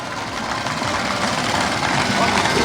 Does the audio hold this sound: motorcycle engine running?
yes